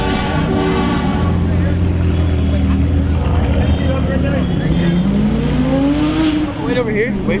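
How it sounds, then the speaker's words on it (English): A McLaren supercar's powerful engine revs and pulls away nearby, its pitch rising and falling, with people talking in the background and loud steady ambient noise. "There's a McLaren leaving right here."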